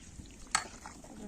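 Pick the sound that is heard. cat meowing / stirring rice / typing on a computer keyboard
stirring rice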